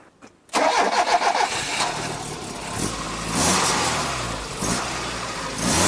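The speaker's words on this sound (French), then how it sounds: "On a vraiment la sonorité particulière du boxer." Alfa Romeo 33 1.7 flat-four boxer engine cranks after a brief silence, catches and settles into a loud, close, throbbing run with some revving swells, no talk over it.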